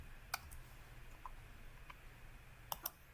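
A few quiet, isolated keystrokes on a computer keyboard while typing a short command in a drafting program, sparse clicks over a low background hum.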